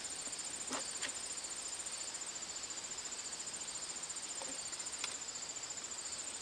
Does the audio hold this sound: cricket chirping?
yes